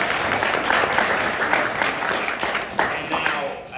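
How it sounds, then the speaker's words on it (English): A group applauds a student team at a maglev event, giving sustained broadband clapping that fills the whole stretch at an even level with faint voices underneath. "so a round of applause for you all"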